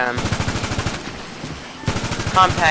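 A compact rifle fires in GTA 5 in rapid automatic bursts: a fast string of shots, a brief lull, then loud firing picks up again.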